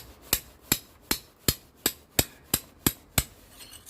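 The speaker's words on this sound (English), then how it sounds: "So what you need is the old plugging chisel and one hammer" Nine sharp, evenly spaced hammer blows ring out on a plugging chisel as it cuts around the perimeter of a brick in an old belfry wall, each strike loud, close and bright with a quick decay, with no voices.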